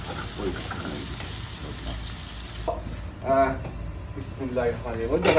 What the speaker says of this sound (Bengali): পেঁয়াজ দিয়ে ফ্রাই করে দিলাম, কত বেশি না অল্প করে নাইস করে ফ্রাই দিয়ে দিলাম